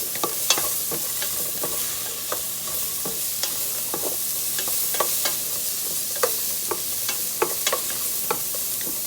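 Onions sizzle in a pan for a zuppa toscana, a steady frying hiss broken by frequent sharp scrapes and taps of a utensil stirring at an uneven rhythm, close up.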